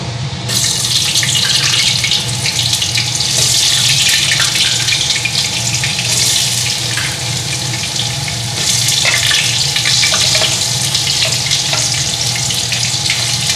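Potatoes hiss and crackle in hot mustard oil, a loud, dense sizzle that runs steadily throughout with no voices over it.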